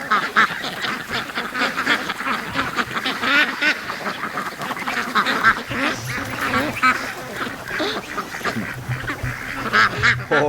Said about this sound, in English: And then the ducks scattering for their morning snack.